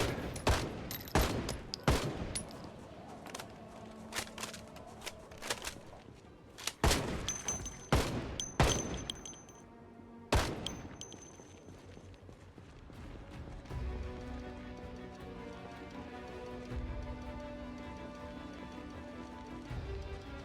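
Gunshots in Project Zomboid as automatic aiming fires at zombies behind a fence, a rapid run of sharp loud bursts early on, then scattered single shots over a lower rumbling game background.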